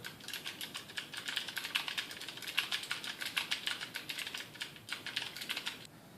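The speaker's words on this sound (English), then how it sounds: "This is what it sounds like with Cherry MX Blue." Rapid, dense clicking of Cherry MX Blue mechanical switches on a Razer Orbweaver gaming keypad as buttons are spammed, a steady clattering stream of crisp clicks at close range with no talking.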